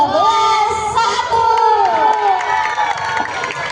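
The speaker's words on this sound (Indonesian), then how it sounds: "Tepuk tangan yang mulia teman-teman" A school crowd cheers and shouts with scattered applause at a speech contest winner announcement, voices rising and wailing loudly together in a lively, close-up burst.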